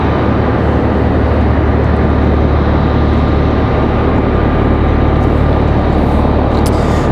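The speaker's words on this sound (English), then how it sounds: "Helicopter directly over our heads here." A helicopter flying directly overhead near Raleigh-Durham International Airport, a loud, dense, continuous roar that stays steady throughout.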